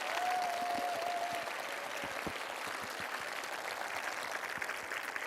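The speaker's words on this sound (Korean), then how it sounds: "여러분 박수 한번 부탁드리겠습니다" Steady audience applause fills a talk concert hall, a dense wash of clapping from a large crowd heard at a moderate distance, continuous for several seconds with faint whoops early on.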